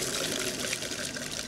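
Tap water rushing fast and steadily into a camper van sink, a dense continuous splashing gush heard up close with no talk.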